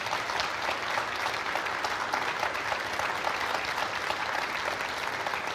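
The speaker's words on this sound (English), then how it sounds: "I heard a big applause" An audience at a European 10-ball billiard championship claps in a dense, sustained burst of applause that holds at an even, fairly loud level throughout, with no distinct voices.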